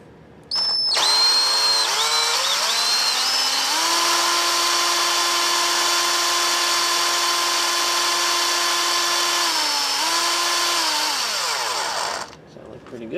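A step bit drills a hole through a fabricated front motor mount brace for a WR250E motorcycle: a steady, close power-drill whine that holds for about eleven seconds, dips briefly in pitch, then winds down.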